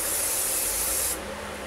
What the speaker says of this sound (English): Go back in with your working hairspray.